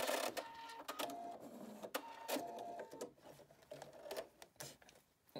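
A sewing machine stitches a hat near the end of its bobbin, running in short bursts of rapid mechanical whirring with stops and restarts, close and fairly quiet, with no voices.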